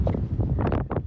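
Wind roaring over the microphone during a monsoon motorcycle ride near Mangalore, loud, close buffeting gusts that rise and fall in short bursts.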